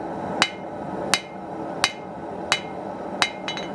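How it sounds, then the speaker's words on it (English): A hammer taps hot steel on a blacksmith's anvil in five evenly spaced sharp ringing strikes, close and clear over a low background hum. "we're just gonna tap"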